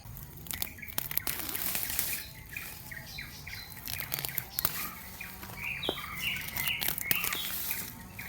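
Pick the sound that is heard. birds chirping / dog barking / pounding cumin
birds chirping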